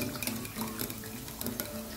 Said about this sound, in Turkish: Sosumuzu güzelce çırpalım.